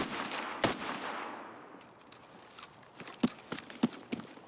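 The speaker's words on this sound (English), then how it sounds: "Footsteps much louder." Footsteps in the video game Escape From Tarkov, heard through a Comtac 2 headset, fall as sharp irregular thuds over a steady hiss of game ambience, with a louder step early and several more toward the end.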